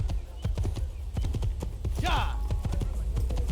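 Horse hooves clip-clop at a steady trot in the Assassin's Creed video game, with close, regular thuds and a brief whinny partway through.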